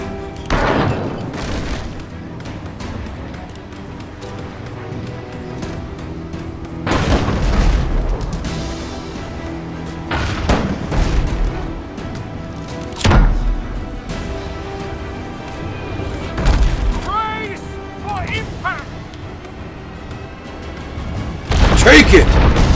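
Mortar fire and explosions in the game Abandon Ship: a series of deep booms spaced several seconds apart over continuous background music and clatter.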